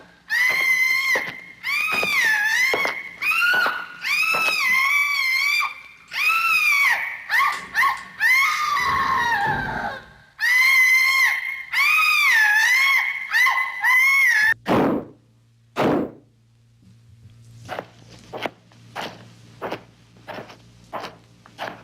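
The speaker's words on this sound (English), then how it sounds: "it sounds as if someone is being tortured in there. All that screaming." Long anguished screams from a murder mystery radio play come in loud, wavering wails again and again, then give way to heavy thuds and sharp knocks over a low hum.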